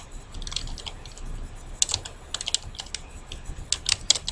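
Typing on a computer keyboard to enter text in Photoshop: close, quick key taps in uneven clusters with brief pauses between words, with no voice over them.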